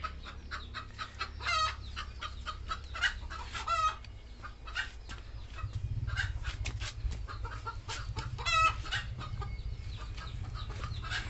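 Country gavran chickens cluck steadily in their shed, with many birds calling over a low hum and an occasional louder squawk. The sound is close, continuous and free of talk.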